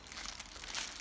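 PE or PVC plastic bag packaging for a portable mosquito net crinkles close up in a quick burst of dry, crackly rustling, with no voices.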